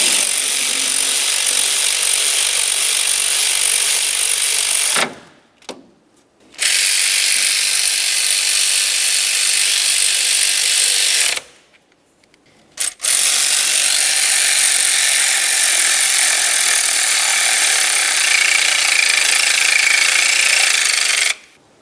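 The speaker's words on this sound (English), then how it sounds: "Now we can snug these up, and then we'll torque each of them to 16 foot-pounds." A hand ratchet tightens the mounting bolts of an AC compressor on a 2006–2011 Honda Civic, giving long runs of rapid, loud, close clicking broken by two short pauses between bolts.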